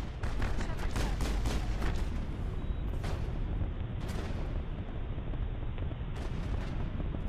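Sniper rifle gunfire in the Mass Effect video game, a dense run of loud, sharp shots with heavy booming low end, with several distinct cracks standing out over a continuous roar of battle noise.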